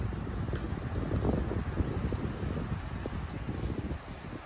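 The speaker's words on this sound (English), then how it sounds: "Ooh, there's the wind." Wind gusting steadily across a farm during stormy weather, a broad continuous rushing roar with buffeting on the microphone, fairly loud and unbroken.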